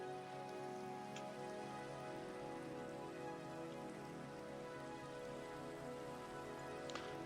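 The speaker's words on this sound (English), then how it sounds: "the nice open sound of rain drops upon us" Steady, soft Minecraft rain patters continuously with a few isolated drips standing out, a calm, even wash of sound with no voices.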